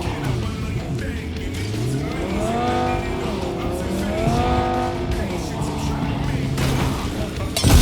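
A car in the video game Cyberpunk 2077 veers onto the wrong road, its engine revving up and down with tire squeals and skids, loud and close, and a voice briefly speaks over it.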